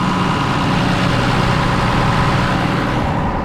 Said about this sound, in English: So we got the tractor cooling off a little bit.